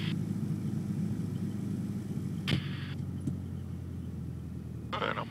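Piper Tomahawk light aircraft engine throttled back, a steady low droning hum with faint rumble, constant and unbroken, with brief higher-pitched clicks and hiss bursts over the top.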